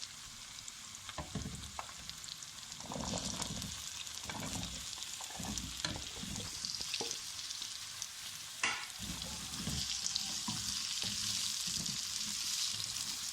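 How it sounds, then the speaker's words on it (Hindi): Chopped turnips are tipped into lightly browned onions frying in a pan and stirred, giving a steady close sizzle broken by scraping knocks and clatters of the spoon, with no talking. "अब इसमें शलजम शामिल कर दें।"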